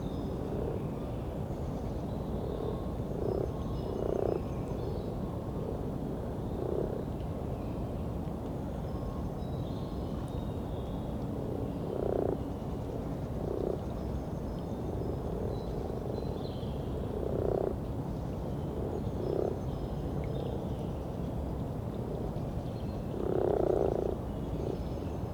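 Frogs croak repeatedly in short bursts over a steady outdoor background, calls spaced irregularly through the recording at moderate distance.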